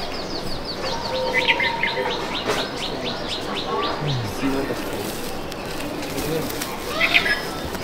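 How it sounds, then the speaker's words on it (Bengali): A female pigeon in a breeding loft among other birds gives repeated soft chirps and short calls over a busy background, while someone talks nearby throughout. "এটা মাদি পায়রা"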